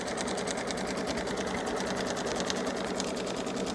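A Baby Lock Solaris embroidery machine stitches quilting on an in-the-hoop basket, a steady, even rapid needle chatter running alone throughout at moderate volume.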